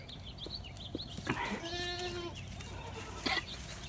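Goats at a farm bleat at grain feeding time, one long, loud, wavering bleat close by with shorter calls and birds chirping in the background.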